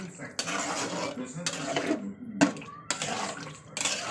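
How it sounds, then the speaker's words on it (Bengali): A little water is poured into a cooking pot of browned masala, splashing and rushing in several short bursts with clinks of metal in between, close by, while a voice speaks over it. "এবার আমি অল্প জল দিয়ে দেবো। জল দিয়ে দিলাম"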